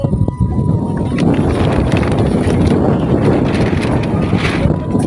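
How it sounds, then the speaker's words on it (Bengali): Strong wind roars steadily across a microphone on a river with heavy waves, a dense continuous rush filling the whole stretch without letup. "দেখো এত বাতাস, নদীতে এত ঢেউ হচ্ছে"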